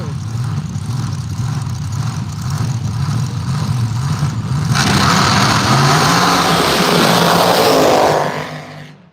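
Sand drag race cars launching at full throttle in a heads-up round of a sand drag shootout in Arizona, a loud engine roar that swells into a broad, intense blast before cutting off abruptly.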